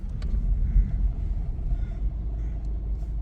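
A Toyota MR2 Mk3 turning around on a two-lane road gives a low, steady engine rumble at slow speed. A few faint clicks sit over the drone, with no voices.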